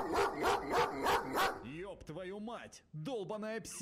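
Outdoors, a dog gives several quick barks in a row, then a person speaks with a brief pause in the middle of the talk.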